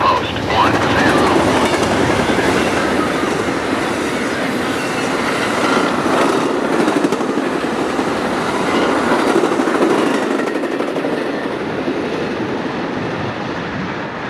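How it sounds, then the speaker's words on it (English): Amtrak train 40 rolls steadily past with Phase 7 P42 locomotive 174 leading and an extra sleeper car in the consist, on the Cleveland Line near Norfolk Southern milepost 10. Loud, continuous wheel rumble and clickety-clack, with faint wheel squeal, fading slightly at the end. "it is Amtrak 40, with Phase 7 P42 number 174 leading the way and an extra sleeper car in the consist"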